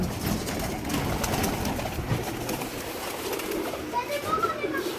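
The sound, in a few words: pigeons cooing in a pigeon house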